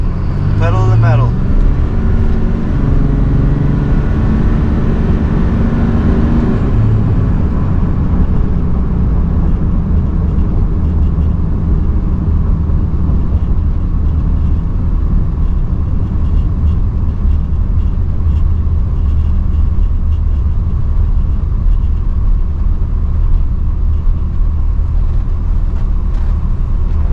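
A 2005 to 2007 Cummins diesel truck runs at full throttle, a loud, sustained engine roar with a dense low drone that holds steady throughout, while voices talk faintly over it.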